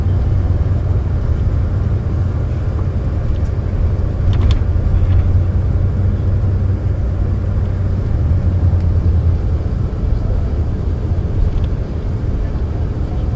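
A tour bus driving through Kingston past Fort Frontenac, its engine and road rumble a steady, loud, low drone from inside the cabin, with faint clicks and rattles on top.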